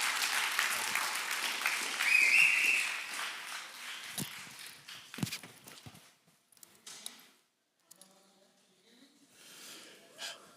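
Audience applause welcoming a speaker named Ryan at the PacLife Party 2022, a dense burst of clapping from a crowd that swells, then thins out into scattered claps and shuffling.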